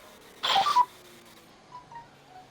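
A phone goes off with a short, bright electronic ringtone burst lasting under half a second, followed by a few faint tones in an otherwise quiet room.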